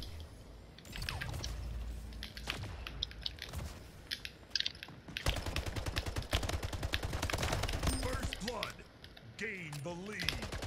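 Rapid automatic AK rifle fire in the video game Splitgate, bursts of sharp cracks in quick succession with a voice talking over parts of the action and chirping game effects near the end.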